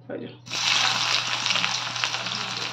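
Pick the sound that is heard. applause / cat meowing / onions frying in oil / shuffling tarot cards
onions frying in oil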